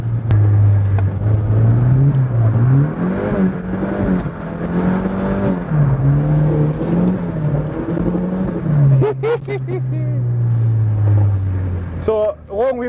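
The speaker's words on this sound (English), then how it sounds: "Got a wee exhaust rattle on the floor" A Volvo, a long-wheelbase car, drifts with a loud, steady engine drone that rises and falls as the throttle works, close up, with talk over it near the end and an exhaust rattle.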